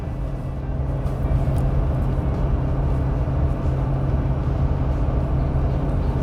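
Ram 2500 with the Cummins 6.7L diesel towing a load uphill in eighth gear at just under 2,000 RPM, a steady loud low drone of engine and road noise from inside the cab, without a break.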